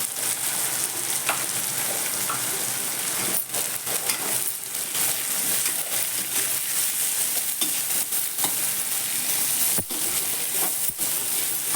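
Potatoes with turmeric and masala fry in oil in a pan for a Marathi guar and potato dish, a continuous close sizzle broken by scattered clinks and scrapes of a spoon stirring.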